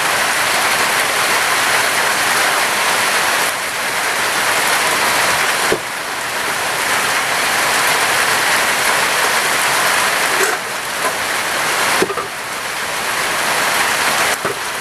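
Steady heavy rain pours down, a dense continuous hiss of drops hitting surfaces close by, with a few brief dips and taps, as rainwater is collected.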